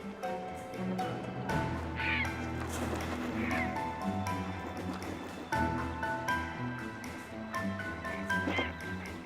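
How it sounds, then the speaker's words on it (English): Herons squabble over the last fish with harsh, raucous squawks and croaks that rise and fall in repeated bursts, loud and close over a busy, layered background. "A fight has flared up over the last fish among the herons."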